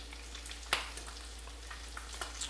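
A duck egg sizzles on bacon inside a chaffle maker, a faint steady frying hiss with small pops and one sharper crackle, heard alone over a low electrical hum.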